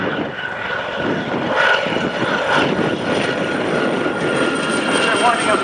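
Westland Gazelle helicopter flying a display at an airshow at around 120 knots, a steady loud rotor and engine whine with a broad rushing drone throughout, under a commentator's voice over loudspeakers.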